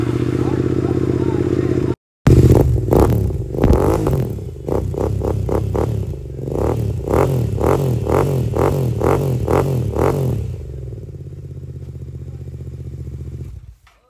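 A modified Royal Enfield GT 650 engine runs through an aftermarket exhaust, with a rapid series of sharp revving bursts and pops that settle into a steady idle, loud and close.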